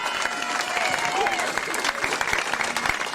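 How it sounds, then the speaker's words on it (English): A crowd applauds the St. Helens junior championship team at the official reopening of Monaduff GAA grounds, a steady wash of many hands clapping throughout, with voices and cheering mixed in. "Will you give them a big round of applause?"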